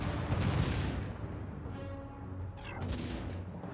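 Cannon towers in the video game Defense Grid fire in a dense barrage of booming shots and crashes, the blasts overlapping in a loud, rumbling stretch.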